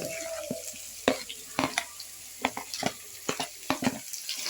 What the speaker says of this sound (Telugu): ఇది ఒక్క నిమిషం ఫ్రై చేసి టమాటా వేసేసుకో